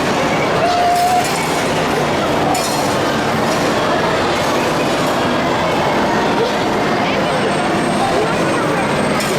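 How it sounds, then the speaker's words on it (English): The House of Horrors ghost train ride on the Grand Pier at Weston-super-Mare rumbles and clatters steadily and loudly throughout, with faint clinks and a brief tone near the start. "It's the House of Horrors ghost train here on the Grand Pier."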